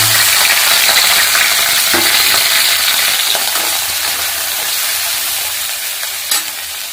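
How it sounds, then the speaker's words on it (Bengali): Cauliflower fries in a pan for a Bengali-style mixed vegetable dish, giving a loud, steady, hissing sizzle that fills the whole stretch, with a few faint stirring clinks and no talking. "হয়ে গেছে, এবারে ফুলকপিটা দিয়ে দেবো"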